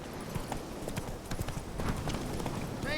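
Horse hooves trotting in The Witcher 3, a steady clip-clop rhythm of hoofbeats close up over constant ambient game noise, with a faint snort near the end.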